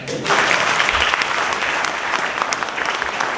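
Steady, dense audience applause fills a gospel healing program, a continuous crowd clapping that stays loud and even throughout.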